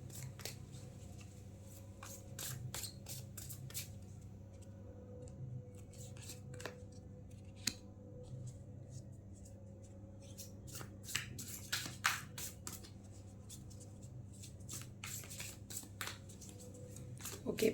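Tarot cards being shuffled, a quiet run of crisp riffling and slapping bursts in irregular clusters close to the mic, with no talking.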